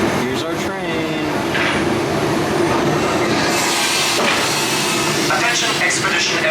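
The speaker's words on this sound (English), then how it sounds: "Here's our train." A ride train at Disney's Animal Kingdom rumbles loudly past close by, wheels squealing on the rails, while people talk faintly beneath the steady roar.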